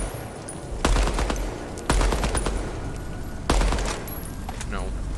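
Three heavy gunshot bursts in the Deadrop video game strike a jug, each a sharp loud crack with a short rolling tail, spaced about a second apart, and someone talking between them.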